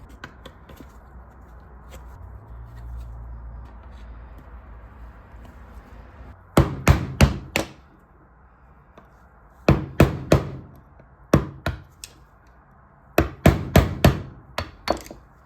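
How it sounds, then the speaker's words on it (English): Sharp hammer strikes on metal, knocking spark plug boots out of a Toyota Celsior LS400 valve cover, come in quick clusters of three to five blows, separated by quiet pauses, close and loud. "from the top, we can basically hammer these out"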